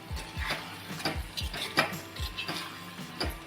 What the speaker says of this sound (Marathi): हे आता मिक्स करून घेऊया आपण